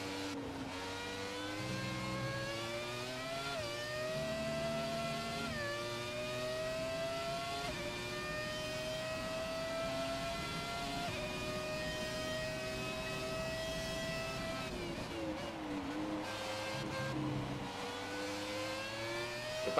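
Older Formula 1 car engine in the F1 2017 racing game at Russia, a steady high-pitched screaming whine that holds and shifts pitch through gear changes, rising and dipping with throttle over the whole stretch.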